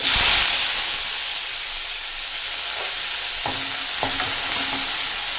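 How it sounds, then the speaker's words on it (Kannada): Hot oil sizzles loudly and steadily, with a few sharp pops and crackles as mustard seeds splutter, no voices present. "ಸಾಸಿವೆ ಸಿಡಿತಾ ಇದೆ"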